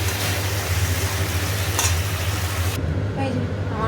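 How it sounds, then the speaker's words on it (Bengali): Fish frying with green chillies in a pan, stirred steadily, a continuous loud sizzle with scraping strokes, then the sizzle drops abruptly near the end as a low hum continues underneath. "মাছ দিয়ে ভালো করে কষিয়ে নিচ্ছি আর কাঁচা লঙ্কা দিয়ে দিয়েছি।"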